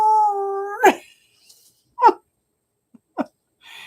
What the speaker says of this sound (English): My dog howls